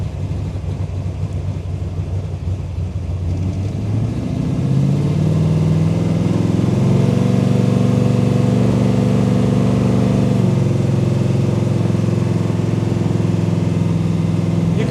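A 1972 Chevrolet Chevelle SS with an 800-horsepower Dart 540 engine and a 12-volt starter, loud and close, rumbling low and steady before rising into a stronger, smoother run partway through, with no talk.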